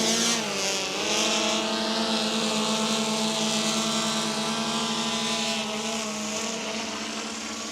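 Camera drone flying out over the water at the Texas City Dike, its propellers producing a loud, steady high-pitched buzzing whine that holds constant, close to the microphone.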